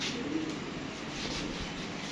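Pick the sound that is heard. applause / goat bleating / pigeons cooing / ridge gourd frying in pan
pigeons cooing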